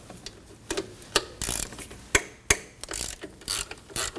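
A ratchet wrench loosens the 12mm bolt holding the belt tensioner on a 2003-2006 Subaru Baja 2.5L H4, giving loud close clicking bursts and sharp metallic snaps in an irregular rhythm, with no talk.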